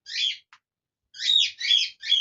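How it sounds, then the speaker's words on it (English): A bird calls in short, bright whistled phrases, first one alone, then three more in quick succession after a pause, close and clear against an otherwise silent background. "And now the bird started."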